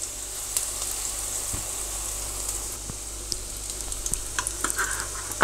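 Parsley omelette batter poured into hot oil sizzles and crackles steadily at close range, with small pops and the occasional scrape of a utensil breaking through the frying hiss.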